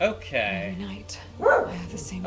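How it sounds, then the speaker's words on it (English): A dog barks a few times indoors at a package delivery, short yips and woofs mixed in with someone talking close by. "I apologize for the dog."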